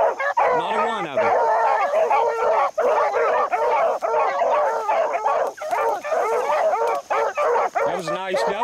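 Beagles baying and yipping together while running a trial at the Northern WV Beagle Club, a loud, continuous pack chorus with overlapping howls and barks close by, a voice briefly heard near the end.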